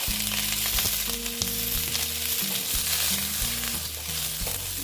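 Pointed gourd (potol) fries in hot oil with turmeric in a steady, loud, close sizzle, while low tonal hums sit underneath and no one speaks.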